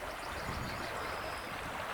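A river runs beneath an old abandoned German-era railway bridge over the Psina, a steady broad hiss of flowing water, faint and continuous with no voices.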